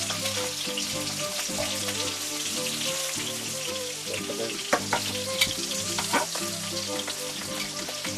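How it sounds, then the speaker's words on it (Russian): Rabbit pieces fry in a pan over high heat with a loud, steady crackling sizzle, and an occasional sharper pop or stir sound rises above it. "переворачиваем каждый кусочек и даем ему обжариться со второй стороны"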